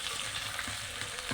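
Hot oil sizzles steadily around a fish head frying in a pan, a continuous close crackle with a few faint pops and no voices.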